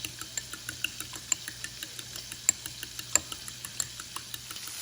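Three large eggs whisked in a bowl for shrimp fried rice, heard as quiet, quick, evenly spaced ticks of the whisk against the bowl over a low background hum.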